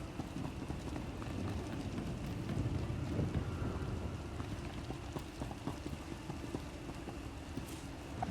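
A steady rain storm in the SWTOR video game, with dense, even rainfall and a low rumbling bed that could be thunder, continuing without a break and with no talk.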